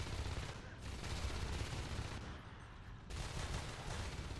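Rapid gunfire from marines shooting lurkers in a StarCraft match, heard as dense, continuous rattling bursts with a brief lull, fairly faint and without speech.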